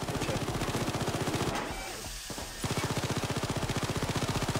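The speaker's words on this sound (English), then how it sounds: "Why is it shooting my downed man?" Sustained rapid automatic gunfire in the video game Payday 2, a dense rattling stream of shots that briefly drops away before resuming at the same fast pace.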